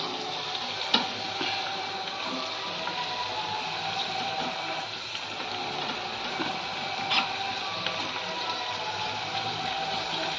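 Onions frying in a pan, a steady continuous sizzle with faint scrapes and clicks, close and even throughout with no talking.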